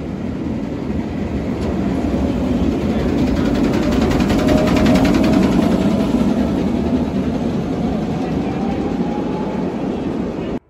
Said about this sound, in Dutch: Hier komt de tram in Rome.